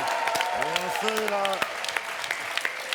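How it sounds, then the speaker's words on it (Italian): Studio audience applause on an Italian radio show as Gianluigi Donnarumma is introduced, steady clapping with a voice speaking over it early on and scattered sharp claps throughout. "Grande applauso, vai!"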